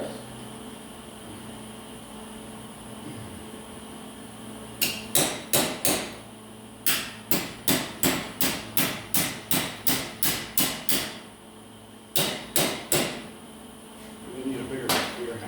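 Metal hammer blows ring out in quick bursts, a steady run of about a dozen sharp strikes followed by a shorter group, close and loud over a faint background hum.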